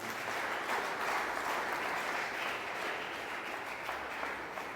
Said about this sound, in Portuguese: Alguém aplauda fortemente o nome de Jesus.